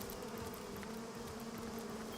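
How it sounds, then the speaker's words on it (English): Bees droning around beehives in the video game Divinity: Original Sin, a steady low buzzing hum that holds for a couple of seconds, faint and continuous with no voices over it. "And I hear some beehives."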